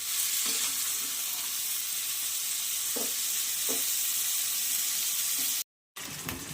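Shrimp and tomato stirred in a pan with salt, a loud steady frying sizzle with a few soft spatula knocks, then a brief cut to silence before the sizzling resumes.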